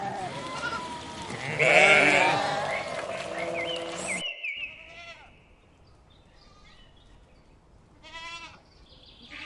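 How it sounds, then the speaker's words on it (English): Sheep bleat on a farm: a loud, wavering call up front, then a few shorter, fainter bleats spaced out over a quiet background. "Sheep."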